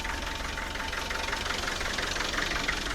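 Land Rover 90 engine, long stood and a little smoky, running steadily at a fast idle with a slight rev, a close continuous mechanical drone with a knocking texture and no talk.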